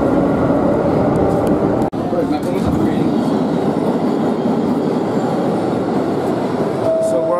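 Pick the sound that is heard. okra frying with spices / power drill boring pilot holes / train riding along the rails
train riding along the rails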